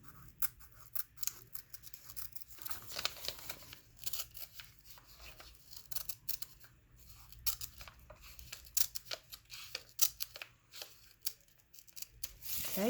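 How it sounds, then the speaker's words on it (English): A paper envelope is slit open with an X-Acto craft knife, giving a run of close, quiet scratchy cutting and tearing strokes in irregular bursts with no talking. "I'm going to take my X-Acto knife or whatever knife you have in your craft frame, and I'm just going to open this envelope up."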